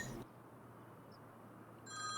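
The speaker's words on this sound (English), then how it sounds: "Oh, your phone's ringing, mate." A phone rings faintly in the background, two short trilling bursts at the start and end of a quiet stretch, heard inside a farm roleplay scene with low ambient hum.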